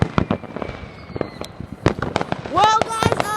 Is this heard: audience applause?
no